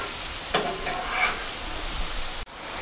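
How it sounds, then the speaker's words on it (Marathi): Tomato and potatoes with cashews sautéed in oil over a high flame, giving a steady, close hiss of frying with a few stirring knocks, no talking, then cutting off abruptly near the end. "गॅसची फ्लेम फास्ट करून यामध्ये आपण सर्व हे परतून घेणार आहोत।"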